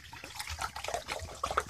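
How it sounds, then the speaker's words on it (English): Water is poured into a pot for boiling on a simple double-walled alcohol stove, making a soft, close, burbling trickle with small splashy bubbles throughout. "Pour some water here."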